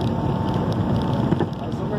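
A loaded Mercedes-Benz Axor 3344 truck's engine drones steadily and loudly from inside the cab, a low continuous rumble with wind and road noise mixed in.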